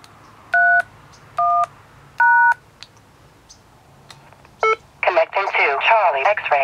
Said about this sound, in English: you can dial any node number and get to that node